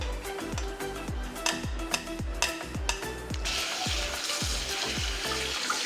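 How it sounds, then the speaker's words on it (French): A coral lentil dahl mixture sautés in a pan, with a steady sizzle and a spoon scraping through it in a regular rhythm, close and fairly loud. "Maintenant, on fait revenir un tout petit peu tout ça pendant 1 ou 2 minutes."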